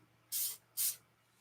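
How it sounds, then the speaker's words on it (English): Two short bursts of silicone lubricant spray hiss from an aerosol can into a paint cup, each about a quarter second long and close by, with a brief pause between them. "use your silicone lubricant in your cups."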